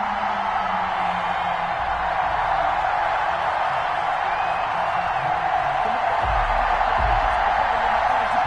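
A home stadium crowd at a Miami Dolphins versus Buffalo Bills game in a Madden football sim, a steady loud roar of cheering with scattered whoops that carries on without a break.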